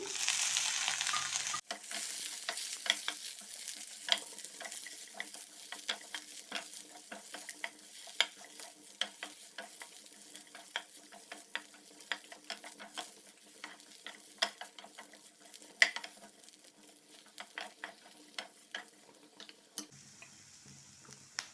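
Chopped capsicum is stir-fried in a pan for white sauce pasta, producing a continuous close sizzle broken by frequent small ticking clicks from stirring, with no voices.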